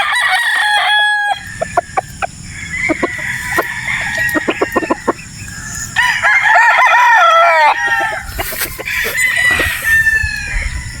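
Sweater Boston gamefowl roosters at a game farm in Batangas crow loudly and cluck close by, several calls overlapping across the stretch with short gaps between them.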